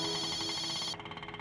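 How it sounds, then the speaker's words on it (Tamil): An incoming call on a telephone sets off a steady electronic ringtone that plays loudly for about a second, then drops to a fainter pulsing tail, with no talking. "யார்மா? சக்தி தான் ஃபோன் பண்றா."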